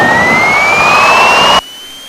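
Piper PA28 single-engine aircraft engine at full power during takeoff, a loud steady roar with a rising whine that cuts off abruptly near the end.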